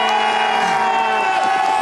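A home crowd at Crankworx Les Gets pump track event cheers and whoops in a brief, loud, dense burst of many voices.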